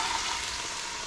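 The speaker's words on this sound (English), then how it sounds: "Okay, so we've got this oil. It's kind of sizzling here." Olive oil and grass-fed butter sizzling in a pan before vegetables go in, a steady, soft, even crackle that stays constant, heard alone without talking.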